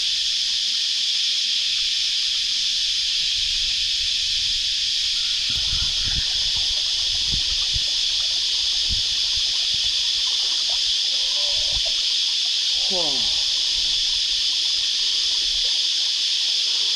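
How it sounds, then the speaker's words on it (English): Sam's Creek, a shallow creek on the Great North Walk, gives off a constant rushing hiss. Brief talking and scattered rustles and knocks break in partway through. "It's quite a nice little creek."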